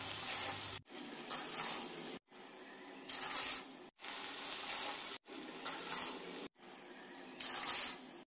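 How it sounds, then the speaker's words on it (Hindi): Water pours in repeated glassfuls into a pot of fried mutton, six separate gushing splashes with short gaps between them, close and loud over faint sizzling. "अब इसमें हम ऐड करेंगे 6 गिलास पानी।"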